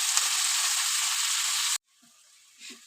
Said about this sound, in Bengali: এবার আমি শাক কুচিটা দিয়ে দেবো।